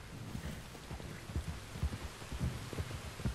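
Rain falling in the Red Dead Redemption 2 video game world, a quiet, steady low patter with soft irregular thumps, faint and distant.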